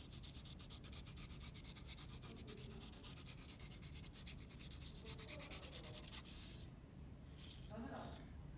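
Sandpaper rubbed against a pencil tip to sharpen the graphite to a tapered point, a steady close scratchy rasp in quick regular strokes that stops abruptly near the end, leaving only faint handling noise.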